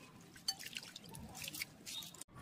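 Basmati rice is rinsed a second time in a bowl of water, with faint wet squishes and drips as grains are swirled by hand, quiet and close.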